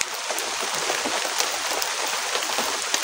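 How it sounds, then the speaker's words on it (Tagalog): Steady rain pours down and grows heavier, dense pattering on surfaces with occasional louder drops, a continuous wash of sound without voices. "Ang ulan, lumalakas ang ulan."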